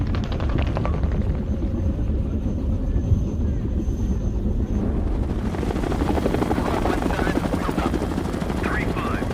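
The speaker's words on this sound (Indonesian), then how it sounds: "mereka tidak mendengarnya karena suara heli terlalu kencang" Helicopter rotor and engine noise in a war film set in Iraq, a loud continuous thudding drone under steady background talk and action sounds throughout.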